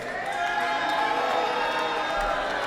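Wrestling arena crowd at a women's wrestling show roaring steadily throughout, a dense sustained mix of cheers and jeers with no break, loud and continuous.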